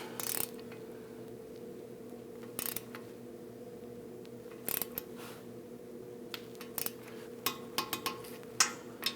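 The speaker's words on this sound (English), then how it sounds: "Let's torque this down to 29 foot-pounds." Torque wrench tightening front ball joint bolts on a 2001-2009 Volvo S60, heard as sparse, faint ratcheting clicks with a few sharper clicks near the end over a steady low hum.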